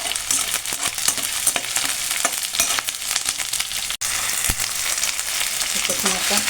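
Onion, tomato and garlic fry for a gravy in a home kitchen, giving a steady, close sizzle throughout, with occasional stirring scrapes and a brief dropout partway through.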